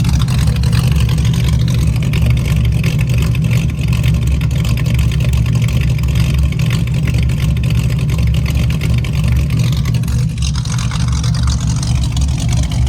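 A 1967 Ford Mustang engine runs steadily throughout, with a constant loud low rumble and no pauses, close to the microphone and without voices.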